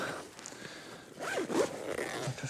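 A zip is pulled open on a carp fishing sling during winter carp fishing outdoors, a single close rasping run of teeth lasting under a second amid quiet background.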